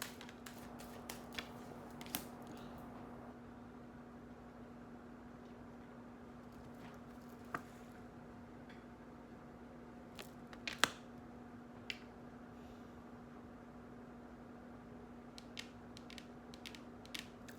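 A tarot deck is shuffled close up and quietly, giving soft riffles, slides and sharp little card snaps at irregular moments against a faint steady background hum.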